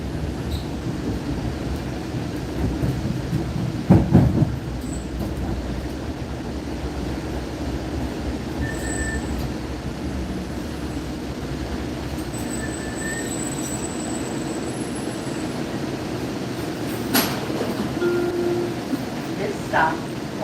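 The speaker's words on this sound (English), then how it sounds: "This is the train to Connolly Avenue." A Hudson Bergen Light Rail train runs along, a steady low rumble of wheels and motors with occasional faint squeals and clicks, while people talk quietly in the background.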